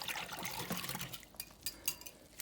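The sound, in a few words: pouring lemon fruit mixture into a cup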